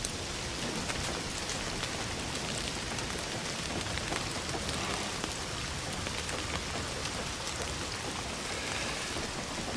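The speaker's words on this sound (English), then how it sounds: "Don't you love rain?" Steady rain falling in the video game Indiana Jones and the Great Circle, a dense, even hiss of drops pattering on surfaces that holds constant throughout with no talk over it.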